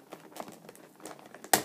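Plastic packaging of a Zootopia toy set crinkles and rustles in small bursts, then a sharp loud crackle near the end as it is pulled open, close to the microphone.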